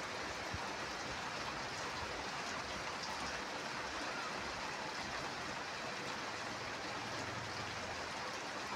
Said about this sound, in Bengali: এখন বৃষ্টি এসছে, এটা আমাদের জানালা দিয়ে দেখা যাচ্ছে পিছনের দিকটা